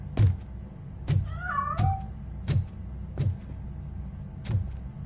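Cat meows from the RoboCop video game, six short loud calls at a steady pace over a low game background hum, one with a wavering drawn-out tone.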